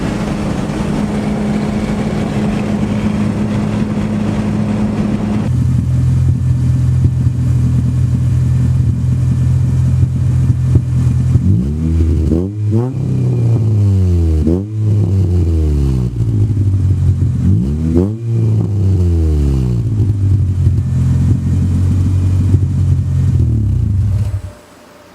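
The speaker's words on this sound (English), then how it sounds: "you can hear the shifter rattling" A car with a B20 engine drives along with a steady mid-pitched engine drone. It rises and falls through several revving gear changes, with faint rattling from the shifter and dash underneath. The sound stays loud and continuous, and no voices are heard.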